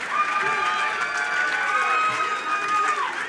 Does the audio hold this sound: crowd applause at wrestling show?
yes